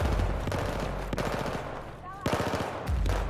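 Automatic weapon fire in the shooter game Battlefield 4 rattles in rapid bursts, loud and close, with short pauses between volleys and faint voices in the background.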